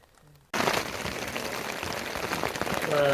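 Steady rain patters hard on a tent close by during a cold night on a Sri Lankan mountaintop, starting abruptly after a brief quiet moment and continuing as a dense, even hiss.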